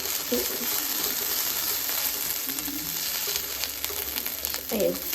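Onion frying in a pan, a steady close hiss of sizzling oil with a few faint stirring sounds.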